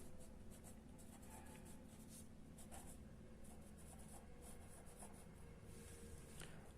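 Marker or chalk scratching and rubbing steadily across a board while a question is written out for a management accounting lesson, continuous close strokes with no talking.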